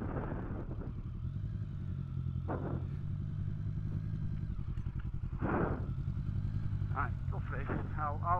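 A motorcycle engine idles low and steady in a roadside lay-by, a constant rumble under a voice talking nearby.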